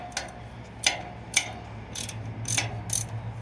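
A wrench ratchets as it tightens a bolt on a 2023 Honda Ruckus scooter during an oil change, with several sharp metallic clicks in short bursts over a low steady hum.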